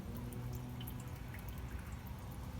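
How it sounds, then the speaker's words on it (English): Water drips from a leaking car radiator, faint irregular drops over a steady low background rumble. "See how it's dripping from the right and going to the left and dripping down?"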